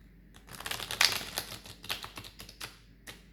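Quick, crisp riffling clicks in a dense burst as thin cards are shuffled close by, peaking briefly then trailing off into scattered snaps.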